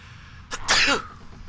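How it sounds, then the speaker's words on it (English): A single sharp human sneeze erupts close to the mic during a Fallout 4 gaming session, a short intake burst followed by a loud explosive release, with no talking over it. "I sneezed"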